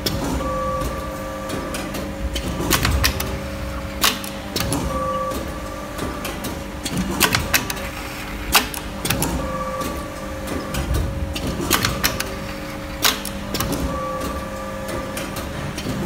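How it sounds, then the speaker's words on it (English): A zipper injection machine is run by hand to press a single zipper: repeated close mechanical clacks and thumps with a steady tonal hum over a constant industrial background. "Now it's manual to press one zipper."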